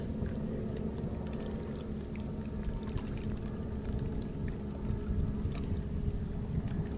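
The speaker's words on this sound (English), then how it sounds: "as you listen to the soothing sounds of the waves of water lapping against the stones" Water waves lapping against stones in a natural outdoor setting, a steady, dense wash of splashing and gurgling that continues without a break, fairly loud and close, with no voices.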